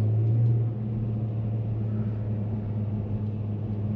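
A car engine in first gear in manual paddle-shift mode gurgles and rumbles steadily at low revs, a deep continuous drone with a slight throaty burble.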